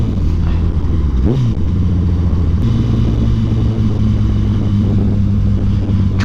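Steady, loud engine drone of a Honda CBR1000 SP1 sport motorcycle while riding, with a brief shift in pitch as the revs change, heavy wind rumble throughout.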